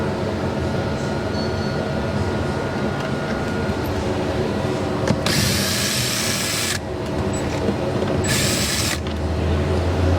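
A power drill removing screws whirs steadily, with two short high-pitched bursts of spinning as it works, heard up close with no talking.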